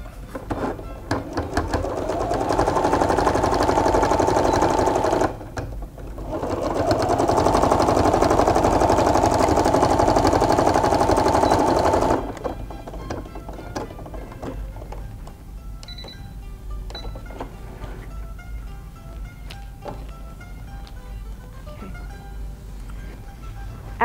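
A sewing machine runs the seams of an elf hat in two long steady stitching bursts with a short break between, loud and close, followed by quieter rustling and handling sounds.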